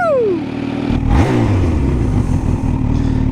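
A supercharged Kawasaki H2 motorcycle engine revs up loud and close, climbing in pitch before settling into a strong rumbling idle with mechanical clatter, no talking.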